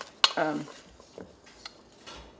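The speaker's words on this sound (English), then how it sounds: "Got to mix them up a little bit." Pre-cooked boiled potatoes being mixed in a pan for chicken pot pie, a sharp metallic clank followed by a few soft scrapes and taps of a utensil, close and fairly quiet.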